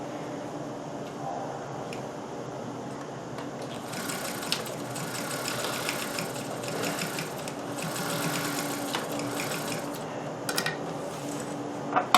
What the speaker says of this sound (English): Notice I'm sewing this way so it doesn't pull up the folds when we sew them.